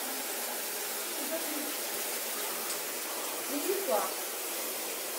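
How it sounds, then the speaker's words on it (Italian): Water pours continuously from a broken pipe in an abandoned village, a steady close hiss and rush, with a voice speaking briefly over it toward the end. "scorre l'acqua non so da quanto tempo"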